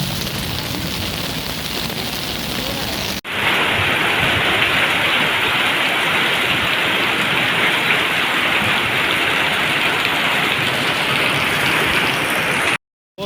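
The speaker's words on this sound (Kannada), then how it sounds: "ಎಲ್ಲ ಅಂಗಡಿಯ ಒಳಗೆ ನುಗ್ಗಿದೆ ನೀರು" Floodwater after a cloudburst on Court Road in Puttur pours into shops with a loud, continuous rushing roar like heavy rain, briefly cut off early on and again near the end.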